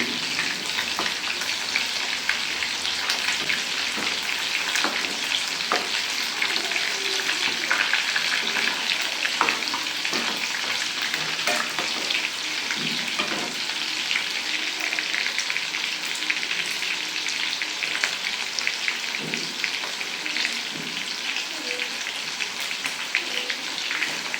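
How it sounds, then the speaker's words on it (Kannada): Chicken kebab pieces frying in oil in a pan while being turned: a continuous crackling sizzle with occasional light scrapes and clicks of turning, steady and close, no talking. "ಚೆನ್ನಾಗಿ ಬೇಯಬೇಕು ಚಿಕನು. ಈ ಥರ ತಿರುಗಿಸ್ತಾ ಇದ್ದೀನಿ."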